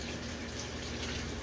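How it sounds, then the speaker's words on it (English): Steady running tap water splashing into a sink as hands are washed with soap before cooking salt mackerel, cabbage and dumplings, a continuous close rush with no talk. "you have to clean up the hand"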